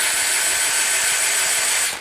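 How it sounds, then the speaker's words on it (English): A drill spins an unbalanced 1/2 inch Allen key at speed, giving a steady, loud rattling whir that holds for about two seconds before cutting off. "1/2 inch Allen key in a drill to demonstrate something that's very out of balance"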